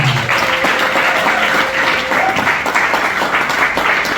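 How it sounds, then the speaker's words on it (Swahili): A church congregation at a morning revival service gives a steady round of applause welcoming a new family, the clapping dense and continuous for several seconds with a brief sustained tone near the start. "Wacha wainuke tupigie Mungu makofi mazuri."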